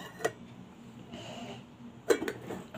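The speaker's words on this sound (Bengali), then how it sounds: "আর এই যে এবার আমি ঢাকনাটা দিয়ে দিলাম" A lid goes onto a cooking pot of steamed hilsa, giving two quiet metallic clinks about two seconds apart in a calm kitchen, the second slightly louder with a short rattle.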